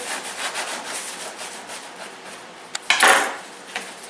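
A knife saws through a still-warm Italian sub bun, a soft steady scraping rub followed by a sharper crunchy cut near the end, close and alone.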